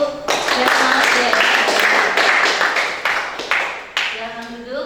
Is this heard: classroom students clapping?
yes